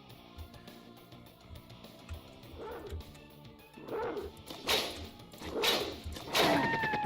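A dog in the video game Destiny barks several times, starting as quieter yips and building into louder, closer, sharp barks toward the end over faint game sounds.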